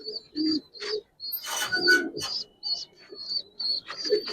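Giribaz pigeons of an old tumbler breed coo in a loft, repeated low calls mixed with chirps and bird noises, fairly close, with people talking intermittently over them.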